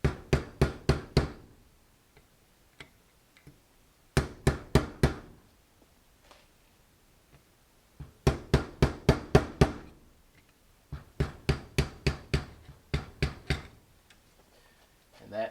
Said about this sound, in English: just take a screwdriver that you can hammer on.